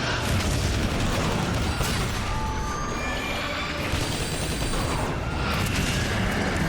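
Dense gunfire and booming explosions fill the Transformers: War for Cybertron battle, with continuous loud rapid bursts and heavy blasts and no pauses.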